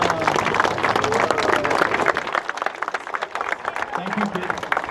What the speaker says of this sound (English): I think these children deserve a really warm round of applause.